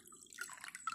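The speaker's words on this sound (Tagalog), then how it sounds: "lagyan lang natin ng kaunting toyo" A little soy sauce dripping into water held in a Tupperware container, a few faint close drips and small liquid splashes, quiet and with no talking.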